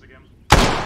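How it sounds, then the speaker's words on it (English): Mortar fire in a World War II video game: after quiet, faint background, a single loud, sharp blast erupts and rolls into a sustained, fading roar. "I hear mortars again."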